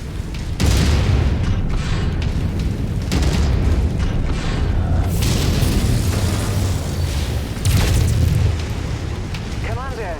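A mech blows up in MechWarrior 5: Mercenaries, loud booming blasts rolling continuously over about ten seconds amid the din of battle in a city, with a couple of heavier surges partway through.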